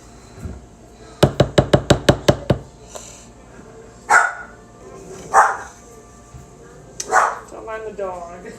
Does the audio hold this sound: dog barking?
yes